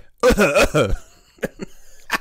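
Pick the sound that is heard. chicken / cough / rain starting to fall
cough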